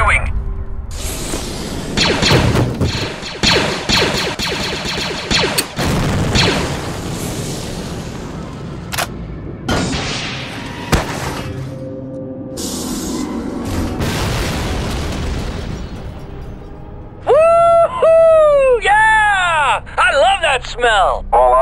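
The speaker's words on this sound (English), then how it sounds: "my scanners show an explosion" Booming blasts and heavy rumbling fill a LEGO Star Wars Clone Wars battle, loud and close, with voices speaking throughout and warbling electronic tones near the end.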